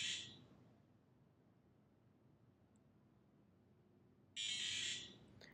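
A Petoi Bittle robot dog gives short, shrill electronic beeps after IMU calibration: one brief burst at the start, a quiet pause, then a longer burst near the end, all close by.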